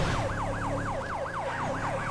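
A Federal Signal Delta police siren in GTA 5 yelps continuously and loudly, about eight fast rising-and-falling sweeps, with a low rumbling drone underneath.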